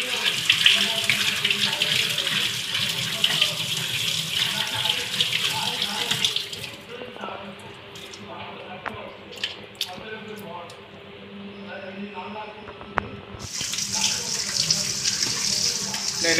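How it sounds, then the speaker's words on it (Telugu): A kitchen tap runs strongly while trevally fish are rinsed one by one under it. The splashing water cuts out briefly midway, leaving quieter handling sounds, then gushes loudly again. "నేనైతే ఒక్కొక్క ఫిష్ అయితే కడుగుతున్నాను, తర్వాత సాల్ట్ వేసి మళ్ళీ ఒకసారి క్లీన్ అనేది చేసుకుంటాను అనమాట."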